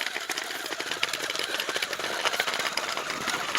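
An RC drift car's small electric motor whines in a fast, buzzing, rattly drone during a wheelie attempt, heard up close and steady for a few seconds.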